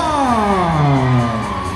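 Crowd cheering and whooping at an all-star cheerleading competition for a mini level 2 team, a steady loud roar throughout with a drawn-out amplified announcer voice rising over it.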